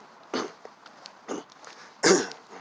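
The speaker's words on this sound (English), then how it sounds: "I had to clear my throat." A man clears his throat three times in short raspy bursts, the last one loudest, close and alone between pauses.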